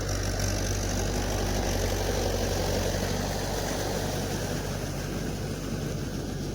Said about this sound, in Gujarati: ટાંકીની અંદર કચરું આવી ગયું છે એટલે ફટાકાનું માર્યા કરે છે